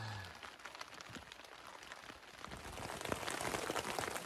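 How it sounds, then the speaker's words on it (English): Steady light rain patters on a tent while camping in the Grand Canyon, a faint continuous hiss with scattered drops that grows slightly denser toward the end. "Ew, we're in a cloud of rain."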